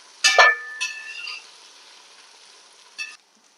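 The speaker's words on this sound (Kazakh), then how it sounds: "қызарғанша араластырамыз пиязымызды, қуырып аламыз" Onions frying in oil for Uzbek plov give a few brief sizzling bursts, the loudest near the start and a shorter one near the end, with quiet gaps between and no talk.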